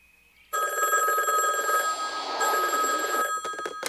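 Telephone ringing in a 1996 Gumby fan-made animation, a loud, close electric bell ring that starts abruptly and rattles continuously for about three seconds, then cuts off.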